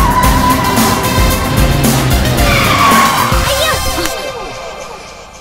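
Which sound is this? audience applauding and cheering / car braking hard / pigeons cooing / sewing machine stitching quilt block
car braking hard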